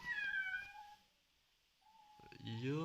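A cat meows close to the listener, with one drawn-out call at the start and a louder, rising meow near the end, separated by a quiet gap.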